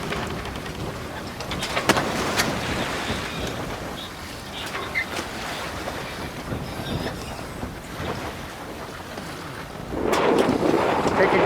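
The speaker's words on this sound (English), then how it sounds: "Taking advantage of the north wind going up Fitzhugh." Strong north wind buffets the microphone aboard a sailboat cruising up Fitzhugh with the genoa set in 15 to 16 knots, a steady rushing roar with gusts swelling near the end.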